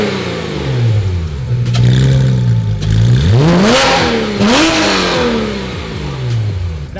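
A rebuilt Porsche GT3 RS with a bigger-displacement engine idles with a deep rumble, then revs sharply twice, pitch climbing and falling back, loud and close.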